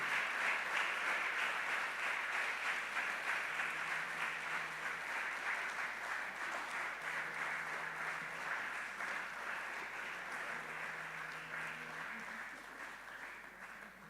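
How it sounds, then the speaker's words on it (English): Continuous, even applause from an audience at the opening ceremony of a climate change and green economy week, welcoming the Queen Mother; steady clapping heard at moderate distance, slowly fading over fourteen seconds. "Let's keep clapping while she comes."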